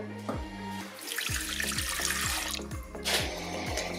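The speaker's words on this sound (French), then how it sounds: "On nous explique qu'il faut verser donc l'eau." Water pours into a Compact Cook food processor, a splashing, gurgling flow over a low rhythmic pulsing hum that repeats evenly.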